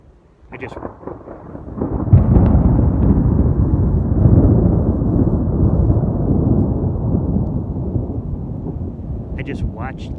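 Thunder from a mountain thunderstorm in Colorado during lightning, a deep, loud rolling rumble that swells after a couple of seconds and keeps growling steadily to the end, with no talk over it.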